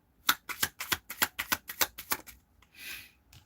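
Tarot cards are shuffled up close in a quick, even run of about ten crisp riffling bursts, followed by a short soft hiss as the deck settles, with no talk.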